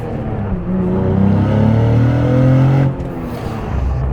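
Cadillac CT4-V Blackwing engine and exhaust near redline, a loud close droning growl that climbs steadily in pitch, then drops off abruptly, with no talking.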